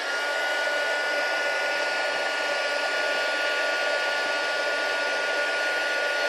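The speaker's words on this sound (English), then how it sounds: "Okay, bring in the heat gun again." A steady, loud blowing roar of a heat gun melting embossing powder runs continuously, a constant airy hiss with no pauses or talk.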